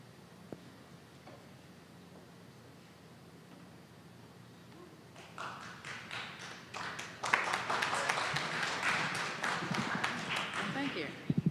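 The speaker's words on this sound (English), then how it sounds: "this crowd is a clapping crowd" A commission meeting audience breaks into applause, starting scattered and swelling into dense, loud, sustained clapping over the room's murmur.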